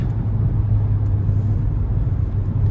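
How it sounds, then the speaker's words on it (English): A 2012 Chevy Cruze speeds up on the road, its engine droning in a steady low rumble inside the cabin with a faint shift in pitch, no voices present. "that transmission shifting the way it's supposed to"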